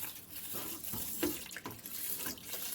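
Tap water poured into a rice cooker over rice, a steady close splashing stream running for a few seconds with no talk.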